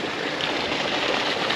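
Artesian bore water flows steadily at a town spa pool, a continuous broad rushing splash with no break or voices.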